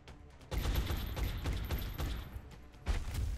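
Rapid burst of automatic gunfire as a soldier shoots an enemy in X-COM: Enemy Within, dense repeated booming shots over about three seconds, loud and close, with a final heavy blast near the end.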